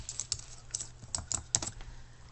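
Light, uneven keystrokes tap on a computer keyboard, close and fairly quiet, in a short irregular burst of clicks with no voices.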